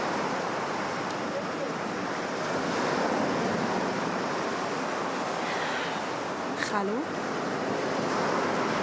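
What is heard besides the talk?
sea waves on the shore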